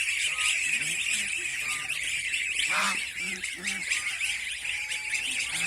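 Sixteen-day-old goslings on a goose farm honk and peep in repeated short, close calls over a hissing background, with a person talking quietly underneath.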